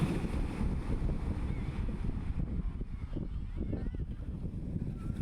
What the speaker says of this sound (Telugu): సముద్రపు కెరటాలు చాలా వేగంగా వస్తున్నాయి